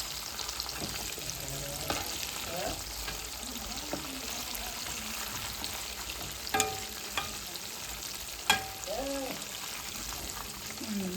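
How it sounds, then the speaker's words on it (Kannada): Chicken 65 pieces fry in hot oil with a soft, steady sizzle, punctuated by occasional clinks and scraping stirs, fairly quiet and close. "ಸೊ ಇದು ಸೈಡ್ ಒಂದು ಫ್ರೈ ಮಾಡ್ಕೊಂಬ."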